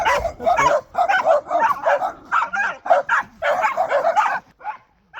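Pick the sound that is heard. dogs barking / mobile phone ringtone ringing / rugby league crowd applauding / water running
dogs barking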